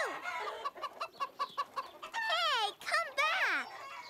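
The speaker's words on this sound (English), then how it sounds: "Now it was Caillou's turn to chase the chickens." Cartoon chickens being chased cluck in a rapid, rhythmic run of short clucks, then break into louder squawking, wavering cries near the end.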